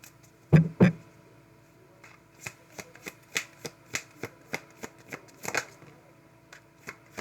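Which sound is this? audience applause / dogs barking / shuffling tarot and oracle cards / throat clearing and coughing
shuffling tarot and oracle cards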